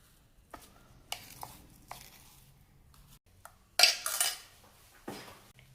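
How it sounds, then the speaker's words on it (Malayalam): Spoon mixing chicken lollipop mixture in a dish gives sparse soft scrapes and light clinks, followed by a couple of louder, sharper knocks against the bowl near the end. "ഇത് സ്പൂൺ വെച്ച് മിക്സ് ചെയ്ത് വേണം അരച്ചെടുക്കാനായിട്ട്"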